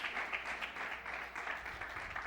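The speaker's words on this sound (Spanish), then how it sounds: "Dale un fuerte aplauso de gloria al Señor." Congregation at a Spanish-language church service clapping for the Lord, a faint, steady wash of applause heard from a distance with no distinct voices.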